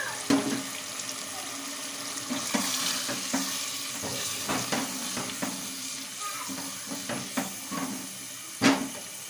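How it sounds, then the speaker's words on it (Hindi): Water is poured into arvi (colocasia) and chicken curry frying in a pan, giving a steady sizzle with stirring clatter and sharp bursts as the liquid hits the hot pan, with no talking. "अब आप इसमें अपने अकॉर्डिंग जो है इसके अंदर पानी ऐड कर सकते हैं, जितनी आपने ग्रेवी रखनी है।"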